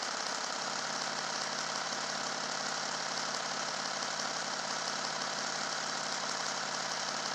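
An Orgon generator motor-wheel runs while charging a battery, giving a steady, continuous mechanical hum with a fine rapid pulsing texture and no other sounds.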